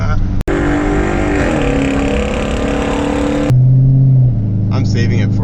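Infiniti Q45 engine, fitted with Audi R8 coil packs, revving hard and climbing through the rev range in a loud, sustained run that drops to a lower steady note near the end.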